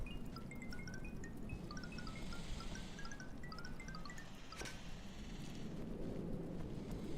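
Rain pours steadily in the Rain World video game, a dense, low rumbling wash with a dull thunder-like roll, while faint chirping calls flicker above the downpour.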